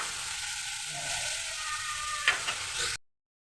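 Chicken meat fries in an uncovered pan, a steady broadband sizzle with a brief stirring scrape near the end before cutting to silence.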